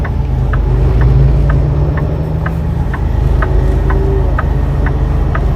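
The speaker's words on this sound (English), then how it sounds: "That's an awful ugly sound for that particular type of car." A car engine makes an ugly, droning rumble heard from a truck on the road between Mayer and Phoenix, Arizona, low and loud under steady road noise with a faint repeating tick, no talking.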